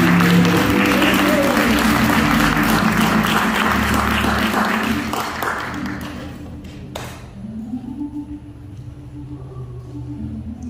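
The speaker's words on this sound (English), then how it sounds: "Let's clap our hands for the goodness of God" A church congregation claps together loudly and rhythmically for several seconds, then the clapping thins and fades out, leaving scattered claps and a quiet room.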